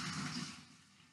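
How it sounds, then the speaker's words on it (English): Hot pasta water pours from a pot into a kitchen sink, a short rushing splash that is strongest at first and then tapers off over about a second, heard alone. "And I'm going to drain it in the sink."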